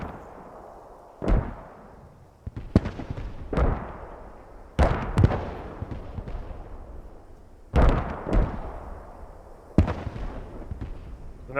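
Naval bombardment shells bursting in Post Scriptum, a World War II game, with heavy booming impacts landing at uneven intervals of a second or two, each followed by a long rumbling tail over a steady low battlefield roar.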